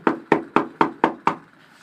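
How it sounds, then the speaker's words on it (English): Someone knocks on a door six times in an even, steady rhythm, each rap crisp, close and clear with nothing else audible, then silence. "There was a knock."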